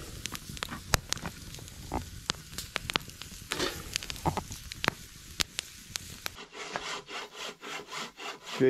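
Rhythmic rasping strokes of a hand saw cutting through wood, close by, with scattered crackling in the background and no talking.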